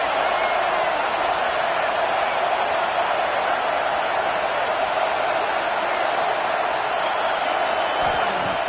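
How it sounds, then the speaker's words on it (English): A football stadium crowd roaring to back the home defense near the goal line, a loud, unbroken wall of massed noise with no distinct voices standing out. "And here comes the noise. This crowd is trying to inspire this defense to make a big red zone stop."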